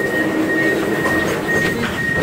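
A Milan Metro line M5 train runs underground, giving a loud, steady rumble with a constant tonal whine and faint rhythmic rail clatter throughout.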